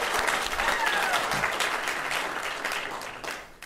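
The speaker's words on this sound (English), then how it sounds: "You all deserve a round of applause." Conference attendees at a security event in Perth break into sustained applause, a dense, moderately loud clatter of many hands that holds steady and tapers slightly near the end.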